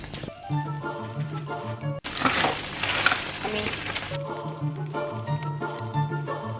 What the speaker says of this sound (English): So I've got some onions and garlic frying.